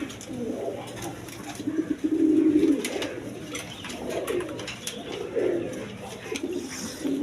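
Big farm-bred pigeons in a breeding loft coo steadily, several birds overlapping in low rolling calls that rise and fade in waves, fairly close and continuous.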